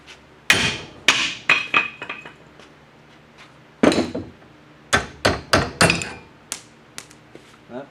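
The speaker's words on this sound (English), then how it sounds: "Hammer time." Sharp metal hammer strikes ring out while a front left transmission mount is replaced on a Ford Escort, coming in irregular clusters of loud, close blows with brief pauses between.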